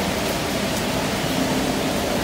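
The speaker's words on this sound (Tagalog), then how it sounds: "Sobrang lakas ng ulan at hanggang ngayon umuulan pa din." A heavy black-rain storm in Hong Kong pours as a loud, constant wash of rainfall, steady and broadband with no pauses.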